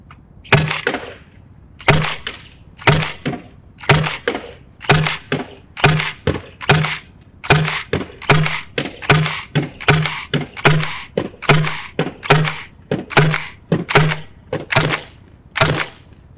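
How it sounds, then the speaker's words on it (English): A realistic paintball gun fires about eighteen sharp, loud cracks in a fairly even rapid rhythm, each a crisp pop with a brief tail and short quiet gaps between shots. "How many shots I have?"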